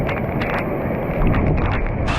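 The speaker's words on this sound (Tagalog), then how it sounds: "Ang lakas ng hangin! Grabe!" Strong gusting wind roars steadily through a summer rainstorm, a dense broadband rush that swells slightly midway, with no voices over it.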